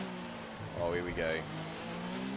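A Formula 1 race car engine in F1 2019 at the Italy round, a sustained high whine that rises and falls through gear shifts, heard under continuous commentary-style talk.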